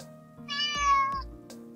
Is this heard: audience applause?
no